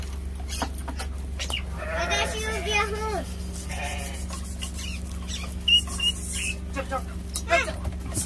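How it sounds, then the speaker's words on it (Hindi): A flock of sheep bleats as it is let out of an enclosure on a farm in Gogaldara, Kashmir, with several wavering bleats scattered over a steady low hum while someone talks nearby. "अब सारी भेड़ निकलेंगी यहाँ से।"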